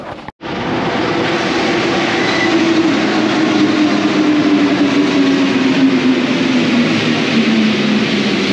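A Paris metro train at Nation station on a sharp curve runs a loud, steady rolling roar with a gliding whine that slowly falls in pitch, close by after a brief dropout at the start.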